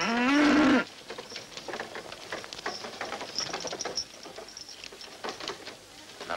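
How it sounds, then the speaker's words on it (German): A cow lets out one loud, drawn-out moo right at the start, then quieter rustling and pattering farmyard noise carries on with no talk. "Ich melke die Kuh."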